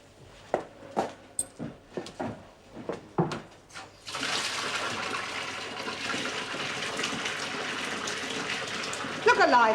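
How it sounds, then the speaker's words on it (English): A bathtub is filled with water, a steady rushing gush from the tap that starts suddenly and runs on evenly, preceded by a series of separate knocks or footsteps. "pick yourself a bath then and get it filled with water"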